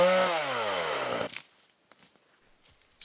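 Small Echo chainsaw cutting wood, a brief close engine rev whose pitch drops over about a second and a half, then fades into faint knocks and rustles.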